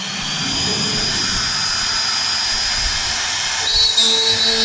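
A CNC router spinning up to carve a wooden door design from a 3D file, giving a steady high-pitched whine with a constant motor hum that shifts slightly near the end, loud and close with no talking.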